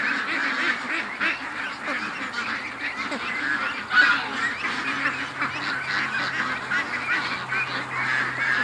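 Young ducks honk and quack loudly in a yard, a dense, constant chorus of overlapping calls close by with no pauses.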